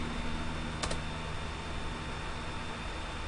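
A single sharp key press on a computer keyboard clicks once against a quiet background hiss.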